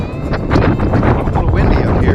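Wind gusting across the open upper deck of the Royal Princess cruise ship, a steady broadband rush with buffeting swells, heard close to the microphone while a person talks over it.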